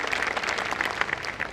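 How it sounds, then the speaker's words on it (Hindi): Audience clapping at a convent school's annual day celebration, a brief burst of fairly faint, steady applause from a crowd. "एक बार जोरदार तालियां"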